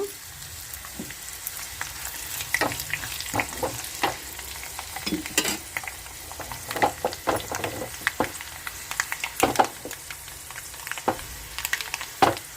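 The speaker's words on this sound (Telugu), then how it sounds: "పోపు లేగిన ఇప్పుడు ఎండుమిర్చి వేసుకుందాము" Dried red chillies crackle and sputter in hot tempering oil for bottle gourd moong dal, with frequent sharp pops and stirring scrapes against the pan, close and fairly loud.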